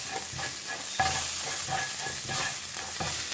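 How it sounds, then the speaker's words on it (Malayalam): Ground paste stirred into hot oil with cumin while cooking matar paneer, a steady sizzling fry under repeated scraping strokes of a spoon against the pan, fairly close and with no talking. "ഇതൊന്ന് മിക്സ് ചെയ്ത് കൊടുക്കാം."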